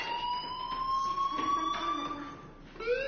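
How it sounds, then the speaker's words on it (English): A fire alarm sounds in the video game Life is Strange, a continuous, steady electronic tone that drones on loudly, dipping briefly and then resuming with a sharper pitch. "do you hear that fire alarm?"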